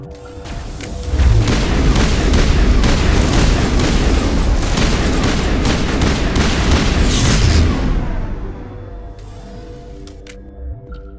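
Combat in the video game Mass Effect: sustained loud gunfire and heavy explosion booms roar almost continuously for about seven seconds, then fade, leaving a few faint electronic tones and a small thud.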